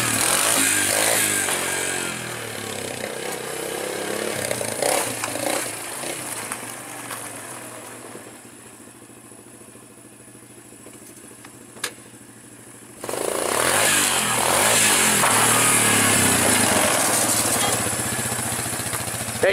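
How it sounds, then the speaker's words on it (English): A Suzuki Ozark 250 quad's engine revving hard, a loud buzzing roar that eases to a quieter idle mid-way, with a brief clack, then surges back to full throttle. "Properly wheel your quad, make sure you have all your weight in the back and you floor it really hard"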